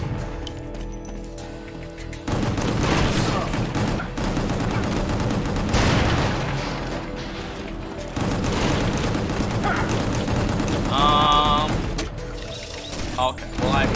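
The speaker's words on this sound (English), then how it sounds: "Oh, get that guy too, so he's out of my way. While I'm shooting." Gunfire in the video game Gungrave Gore, dense bursts of shots and booms running almost continuously at close range alongside a player talking, with a brief high tonal game effect near the end.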